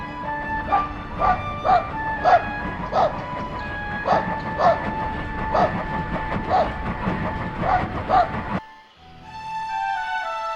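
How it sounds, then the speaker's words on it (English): A dog barks in repeated, evenly spaced yaps over the rumble and whistle tones of a train, then the barking stops abruptly, leaving a sustained whistle chord. "It must be the dog barking."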